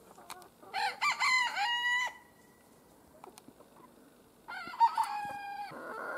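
Young roosters and hens on a small farm: a rooster crows loudly and close by, then falls silent before crowing again, with soft clucks and faint rustling in the quiet gaps.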